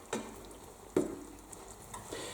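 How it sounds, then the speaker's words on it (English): Potato for a Spanish tortilla cooking slowly in a pan, a quiet hiss of frying oil broken by a few soft spatula taps and scrapes, including one more distinct clack. "whilst your potato is cooking in the pan"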